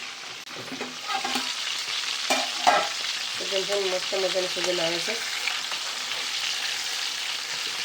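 Pomfret fish frying in a pan on a low flame, giving a constant sizzle with scraping and stirring sounds as the fish is turned; a voice speaks briefly over it.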